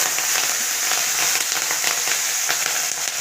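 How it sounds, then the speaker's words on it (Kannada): Curry leaves and garlic frying in hot oil for a North Karnataka avalakki snack, a steady dense sizzle with crackling pops running throughout at close range. "ಈಗ ಕರಿಬೇವು ಬೆಳ್ಳುಳ್ಳಿ ಹಾಕ್ಕೊಳ್ತಾ"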